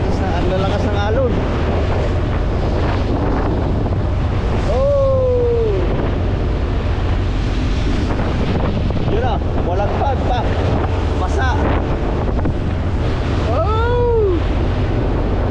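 Strong sea waves churn around a motorized boat in rough, stormy weather, a loud constant wash with wind buffeting the microphone, while people on board exclaim and talk over it.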